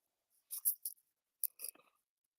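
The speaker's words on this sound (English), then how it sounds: "the clicking you're hearing is, I think, the stylus pen touching the" A stylus pen taps against a drawing tablet screen in two quick clusters of crisp, light clicks, close and quiet in an otherwise silent room.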